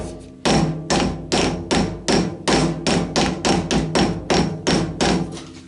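A hammer taps a metal workpiece down into a machine vise in a workshop, about fourteen loud, evenly spaced ringing knocks close by with no talking.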